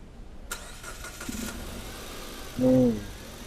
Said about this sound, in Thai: เดี๋ยวให้น้องเขาสตาร์ทให้หน่อยนะครับฟังเสียงเครื่องยนต์กันหน่อย โอเค สตาร์ทแล้วเหยียบคันเร่งค้างไว้